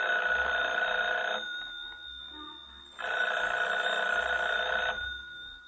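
A telephone bell rings in an old radio drama: two long ringing bursts separated by a pause, clear and moderately loud, with no speech over it.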